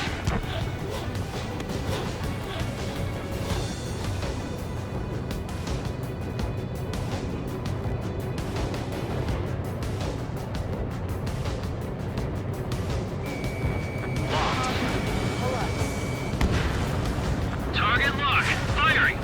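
Missile launch and explosions during an Ace Combat 7 air combat mission, a continuous heavy rumble of jet and blast noise with rolling booms, overlaid by radio chatter throughout.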